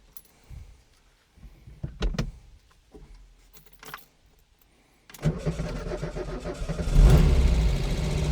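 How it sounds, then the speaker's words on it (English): A 1964 Porsche 356C air-cooled engine restarting while hot: a few clicks and jangles, then the starter cranks briefly and the engine catches at about five seconds and settles into a loud, steady run with rising revs. "On a hot restart on these cars, any air cooled, you're supposed to hold the throttle plates open"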